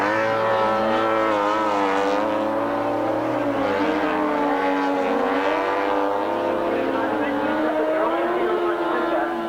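Grasstrack racing motorcycles at the 1993 British Masters power around a bend and down the back straight, a loud continuous engine roar with rising and falling pitch, under a commentator's excited voice throughout.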